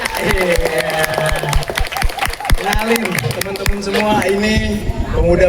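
Audience clapping for village youth performers at a community event, a burst of sharp claps and scattered cheers mixed with lively talk and chatter from the crowd throughout.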